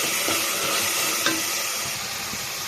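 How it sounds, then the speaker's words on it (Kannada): Tomato paste masala frying in a pan for a Sunday meat meal, a dense, close sizzle with a spatula scraping and stirring through it, steady and fairly loud, no voices. "ಈ ಥರ ಫ್ರೈ ಆಗ್ತಾ ಇದೆ"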